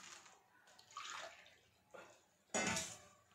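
Water poured from a cup onto sugar in a wok over a gas flame for syrup, heard as a few short splashing bursts, the last one loudest, close and alone without talk.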